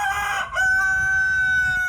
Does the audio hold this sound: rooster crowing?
yes